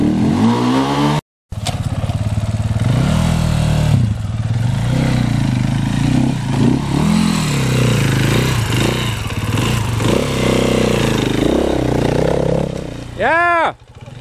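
An enduro motorcycle engine burbles at low throttle on a hillside trail, a close, steady, uneven rumble with small surges and clattery bursts, cut by a brief dropout early on and ending in a sharper rev.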